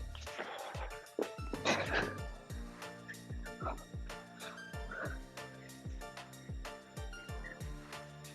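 A dog barks repeatedly in short, evenly spaced yips at moderate distance through a live workout session, with some background voice and rhythmic thumps underneath.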